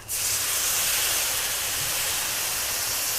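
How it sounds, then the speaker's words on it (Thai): Plain water poured into frying shrimp paste sauce, a sudden loud steady hiss of steam that starts at once and holds close and even to the end. "หลังจากนั้นเราก็จะมาใส่น้ำเปล่าลงไปค่ะ"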